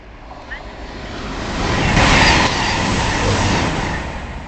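A former Avanti West Coast Voyager train passing at Northallerton, a broad rushing roar that swells to a peak midway and slowly fades, loud and close, with wind buffeting the microphone.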